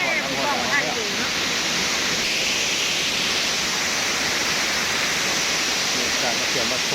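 A waterfall in southern Laos roars as a dense, steady rush of falling water that stays loud and unbroken throughout, with no voices heard over it.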